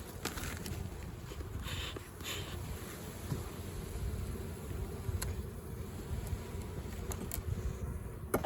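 Honey bees hum steadily around an open hive in an almond orchard during pollination, a low continuous buzz close by, with scattered clicks and light knocks from the hive frames.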